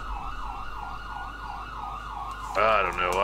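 Police sirens in the game GTA V wail with a smooth rising-and-falling tone, then a second, louder siren cuts in near the end, both continuous and fairly close.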